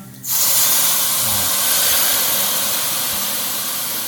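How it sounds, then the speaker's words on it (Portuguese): Red wine hitting a hot risotto pan of rice with carne seca bursts into a loud, steady hiss and sizzle that starts abruptly and holds strong for several seconds, with faint clatter underneath. "agora a gente vai entrar com o vinho tinto, pra gente deixar o arroz mais escuro para combinar com a carne seca"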